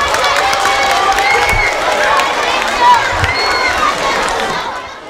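A school crowd at a Black History event applauds and cheers, a loud dense wash of clapping and whoops filling the space and tapering slightly at the end.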